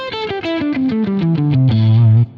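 Distorted electric guitar plays a metric modulation exercise that shifts from triplets to sixteenth notes, with no backing track. A loud, steady stream of rapid picked notes steps downward in pitch, heard alone.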